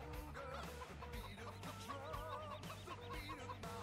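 Chickens in Farming Simulator 17 cluck repeatedly in a busy, layered chorus of fowl calls, near and steady, with no talk over them.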